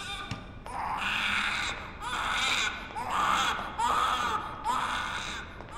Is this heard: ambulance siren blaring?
no